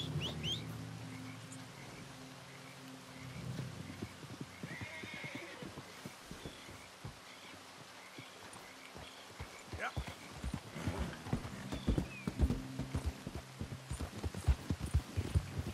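Horse in Red Dead Redemption 2, whinnying over a run of clip-clopping hooves that grows louder and busier toward the end, with faint birdsong in the background.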